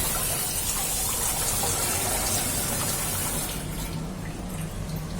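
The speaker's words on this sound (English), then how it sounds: "Wash it nicely with water." Running tap water pours over boiled vegetable chow mein noodles as they are rinsed, a steady close gush that softens slightly toward the end, with no talking.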